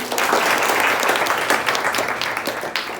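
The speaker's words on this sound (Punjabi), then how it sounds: "ਪਾਕਿਸਤਾਨ ਸ਼ਾਬਾਸ਼ ਪਾਕਿਸਤਾਨ ਦਾ ਜੀ ਤਾੜੀਆਂ ਮਾਰੋ ਬਈ" A class of students at a government high school claps for a correct quiz answer. The applause is loud, dense and close, then thins slightly toward the end.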